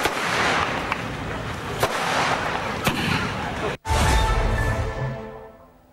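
Dense crackling bursts of Diwali firecrackers pop continuously, with a few sharper loud bangs, then the rattling fades away at the end.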